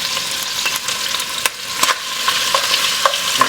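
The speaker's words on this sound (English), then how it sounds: "I'm just going to brown some of this pork a little bit at a time." Pork pieces browning in a hot pan with canola oil, seasoned with salt and pepper for a Hatch chile stew; a steady close sizzle with occasional pops and stirring scrapes, no talk.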